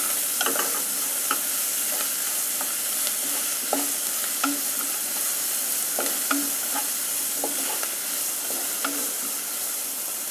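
Onions sautéing with green chilli, ginger and garlic for a white chickpea masala, a steady sizzle broken by regular clinks and scrapes of a spoon stirring the pan, with no talk.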